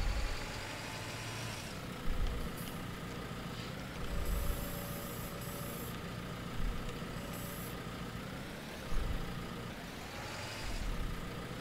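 A tractor engine in Farming Simulator 19 drones steadily while lifting a 4,000 litre hay bale, a continuous loud rumble with periodic revving surges and hydraulic whines layered on top.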